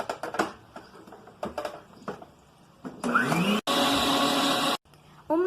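Savory cake batter with milk and cornmeal whirred in a kitchen blender: after a few light taps and clatters, a loud close motor roars for about two seconds in two bursts, then stops.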